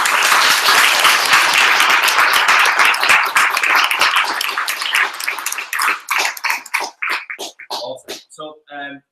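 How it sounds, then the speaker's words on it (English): An audience at a Manchester entrepreneur social evening claps for a speaker named Claire, dense steady applause that thins out into scattered individual claps and dies away over the last few seconds. "can you give Claire a round of applause?"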